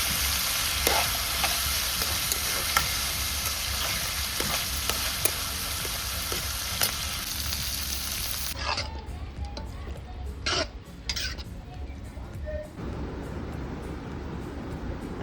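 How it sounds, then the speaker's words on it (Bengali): Khichuri ingredients fry in a pan with a steady close sizzle and occasional stirring scrapes, the frying dropping away partway through, followed by a cough and quieter room sound. "এখানে আপাতত খিচুড়ির ভাজা চলছে।"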